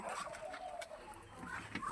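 A hen clucks close by in a few quick, throaty calls, with a faint bird chirp now and then in the background.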